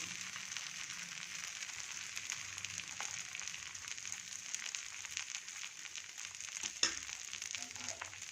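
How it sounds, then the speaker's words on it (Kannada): Buttermilk dosa batter sizzling in oil on a hot tawa, a steady soft crackling hiss that continues evenly throughout, with a brief scrape or clink near the end. "ಎಣ್ಣೆ ಹಾಕ್ಬಿಟ್ಟಿದ್ದೀನಿ ತವಾಗೆ ನಮಗೆ ಹೇಗೆ ಬೇಕು ತೆಳ್ಳಗೆ ಬೇಕು ಹೇಗೆ ಬೇಕು ಹಾಗೆ ಹುಯ್ಕೊಳ್ಳೋದು"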